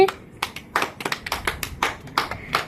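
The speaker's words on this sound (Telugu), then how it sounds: "క్లాప్స్ కొట్టండి" A group of children clapping at a classroom children's day event, with irregular bursts of hand claps of varying loudness, close by, with no talking.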